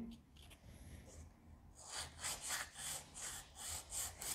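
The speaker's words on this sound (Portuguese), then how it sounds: "Eu vou lixar para pintar a casinha." Faint scraping at first, then a steady run of rhythmic sandpaper strokes rasping across a wooden bee box for Jataí bees, quiet and fairly close.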